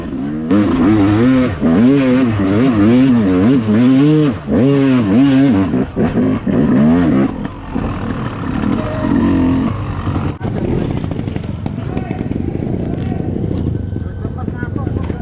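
A two-stroke motorcycle engine revs high and wavers as the clutch is worked to hold the revs, loud and close, then settles to a rougher drone. Someone talks over it.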